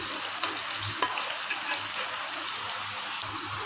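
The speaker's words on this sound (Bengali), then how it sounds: "আলুটা একটু হালকা করে ভেজে নিচ্ছি" Potatoes frying lightly in oil in a home kitchen pan give a steady, close sizzle with occasional stirring scrapes and bubbling pops.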